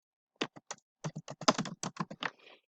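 Bursts of typing on a computer keyboard, a dozen or so quick clustered keystroke groups over about two seconds, close and fairly quiet with no talk.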